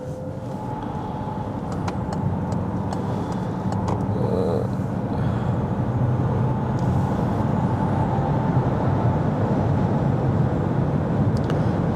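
Steady road and wind noise fills the cabin of a Peugeot e-2008 electric SUV cruising on the highway at about 130 km/h, a continuous broadband rumble and hiss with no talking.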